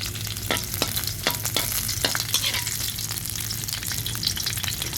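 Chopped garlic sizzles and fries in hot boiling oil for a simple stir-fried vegetable dish, a steady loud crackle with scattered sharp pops and stirring scrapes throughout.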